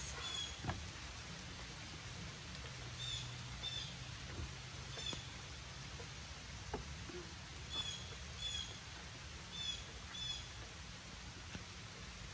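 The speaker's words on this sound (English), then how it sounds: "And as fast as the rain came, it left." Rain falling on a driveway, a faint steady patter with scattered drips, quiet and without talk.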